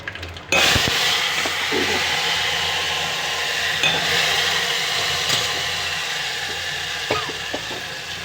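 A sharp hiss bursts up as hot tempering spices hit the pot of pappu pulusu, settling into a continuous sizzle with occasional clinks and stirring.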